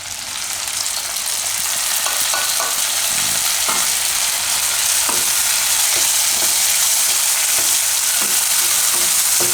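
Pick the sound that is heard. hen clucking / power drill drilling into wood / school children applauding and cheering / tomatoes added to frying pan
tomatoes added to frying pan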